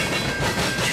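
A train passes close by on the BNSF Aurora Sub line, a loud, continuous rumble and rattle of rolling cars with no voices.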